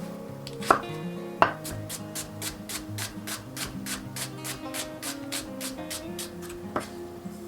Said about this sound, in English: So I'm going to chop the onion and caramelize the onion